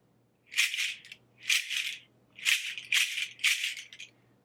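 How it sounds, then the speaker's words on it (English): A hand-held seed pod shaker whacked hard, giving five loud, bright rattling bursts in a steady rhythm, each a dry crisp shake close to the listener with short quiet gaps between. "this little seed pod is loud enough to get your attention"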